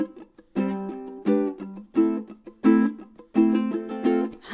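A ukulele plays a level-three reggae strumming pattern, with bright, choppy chord strums arriving in short syncopated bursts and clean gaps between them, played close and clear.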